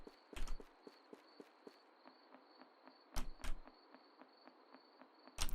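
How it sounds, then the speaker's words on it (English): Crickets chirp in a steady pulsing rhythm across daytime outdoor ambience in the horror game There Swing A Skull: Grim Tidings, joined by sharp clip-clop-like knocks, all faint and without talk. "I love the cricket ambience."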